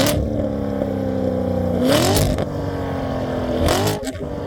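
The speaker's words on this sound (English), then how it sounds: "this one has an aftermarket exhaust, and listen to how good it sounds." A C7 Corvette Stingray's aftermarket exhaust roars close by, revving up in two sharp bursts over a rumbling idle, with a deep burbling tone between pulls.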